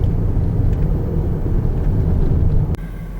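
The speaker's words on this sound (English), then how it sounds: "We're actually riding in the middle of the interstate." A vehicle rides along the middle of an interstate in Escatawpa, Mississippi, with a loud, steady low road and engine rumble, close and continuous, dropping off slightly near the end with no talking.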